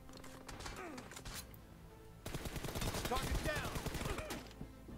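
Gunfire from PUBG Mobile arrives as quick bursts of rapid, mechanical-sounding shots, fairly faint, with a louder, denser volley in the second half.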